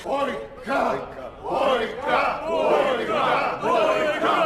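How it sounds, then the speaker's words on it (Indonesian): Prison fight crowd chanting the fighter's name Boyka in rhythmic shouted bursts, a loud massed roar of many voices repeating in waves throughout. "membuat para penonton berteriak, "Boyka, Boyka, Boyka!""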